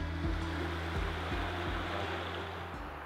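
A river flows steadily with broadband rushing water on the Camino Francés route toward Pamplona, continuous and fairly close, with a low rhythmic hum running underneath.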